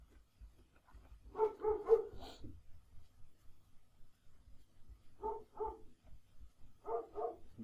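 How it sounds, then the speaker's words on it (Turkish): Dogs bark in the Minecraft video game, several short bursts of barking in three separate clusters at moderate level against near silence. "Dışarıda köpekler de avlıyor."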